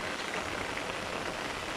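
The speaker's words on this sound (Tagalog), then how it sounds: "umuulan kasi dito sa Davao" Steady rain falls in Davao, an even hiss of drops on surfaces that holds constant throughout with no voices.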